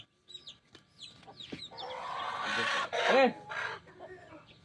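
Chickens cluck and squawk up close, several sharp calls rising into a louder burst of agitated clucking.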